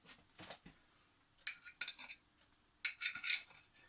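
Knife and cutlery clinking against a plate or board while food is cut into quarters in a home kitchen, in three short bursts of light tapping separated by quiet.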